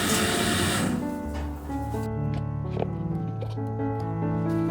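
A kitchen machine blending corn into warm corn milk whirs steadily up close, its motor whine shifting pitch several times as it works, with no talk.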